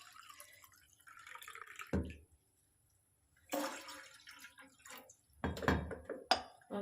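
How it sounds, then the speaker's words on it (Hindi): Water poured from a glass into a pot on the kitchen stove for a kadha herbal drink, coming in short splashing bursts with quiet gaps between them, close and clear. "मैं यहाँ 3 लोगों के लिए 2 गिलास पानी ले रही हूँ।"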